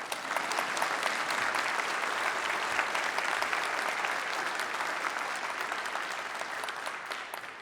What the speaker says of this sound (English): We can clap for them too.